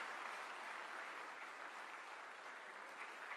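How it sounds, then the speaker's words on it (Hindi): An audience claps together in steady applause at a government workshop on developing Indian animal breeds. The clapping is dense and even, stays at the same level for the whole clip, and no voices rise above it. "तालियां जोरदार"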